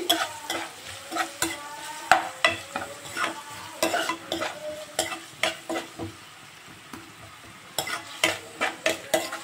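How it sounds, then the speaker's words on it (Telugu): Onions fry in a pan while a spoon stirs them, with rhythmic scraping strokes over a soft sizzle, a short lull midway, then a fresh burst of quick stirring. "ఇప్పుడు కొంచెం వేగాలండి ఆనియన్ అనేది"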